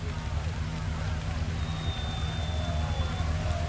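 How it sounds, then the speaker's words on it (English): Rain falls steadily in a digital rally racing game, a constant hiss of drops on the car under low engine drone, with a thin whine rising faintly midway. "now we're back to the rain"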